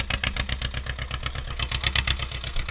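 An Ursus C-328/330 tractor engine runs close by at a steady pace, its exhaust giving a rapid, even, throbbing chug during field cultivation.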